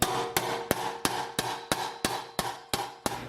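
A hammer taps metal in a steady, even rhythm while fabricating a car's rear inner rocker panel, about ten sharp ringing strikes in quick succession, close and clear.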